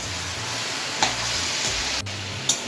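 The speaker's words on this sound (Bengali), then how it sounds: "সব কিছু ভালোভাবে মিশিয়ে নেব।" Capsicum pickle mixture with ground coriander stirred in a pan, a steady sizzling hiss with a few sharp scrapes of the spoon against the metal.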